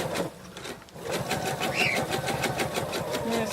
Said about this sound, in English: I'm going to sew around this fin.